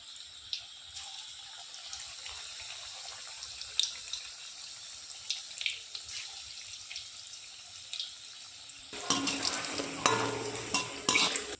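Spinach pakoras fry in oil, a soft crackle with small clicks that swells into a louder, busier sizzle for the last few seconds.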